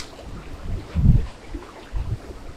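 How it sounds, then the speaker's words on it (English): Strong wind on a lake buffets the microphone in low rumbling gusts, the loudest burst near the middle and another toward the end, heard from a fishing boat with no talk. "I don't know how much longer we're gonna stay out here if it keeps staying this super windy"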